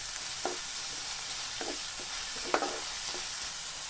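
Chopped onions fry with half a teaspoon of cumin in a pan, a steady soft sizzle broken by four or five brief spatula scrapes, heard up close without any talking.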